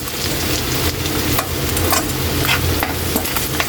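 Garlic frying in butter or margarine in a pan, a steady close sizzle with light stirring scrapes running throughout, no voices.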